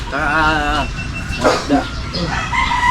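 Pet chickens and a rooster in a yard, with a rooster crowing loudly up close, then softer clucks and calls from the flock.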